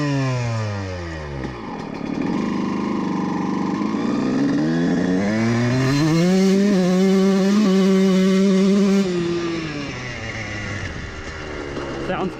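A two-stroke engine revs up and down on a jetting test run, its pitch sweeping through several climbs and drops with a slight sputter near the top, loud and close.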